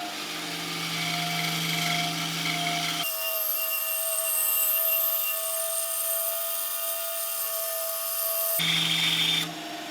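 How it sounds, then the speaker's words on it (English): A bandsaw slices through a piece of walnut, a loud, sustained whine with rasping that starts around three seconds in and runs steadily for several seconds before the blade winds back down to idle hum. "I'm going to test the ability of this bandsaw on a piece of walnut first,"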